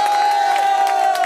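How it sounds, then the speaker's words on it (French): Crowd cheering and clapping for lifeguards at a beach or aquatic-centre disability challenge event, a short loud burst with a sustained whistle-like tone running through it. "Je crois qu'on peut applaudir les maîtres nageurs."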